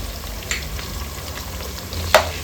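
Onions and ginger garlic paste sizzling in ghee in a pot, a steady low frying crackle with a couple of sharp stirring clinks, no talking.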